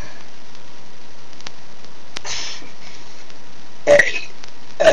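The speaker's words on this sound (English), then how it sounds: "Let's have a burping conversation" Two or three short, close burps break through a quiet hiss, the last ones louder and deeper, with brief sounds from a person between them.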